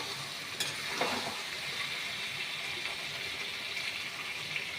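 Masala fries in hot oil in a pan with potato, bitter gourd and pointed gourd nearby, a steady close sizzle with a brief scrape of stirring near the start.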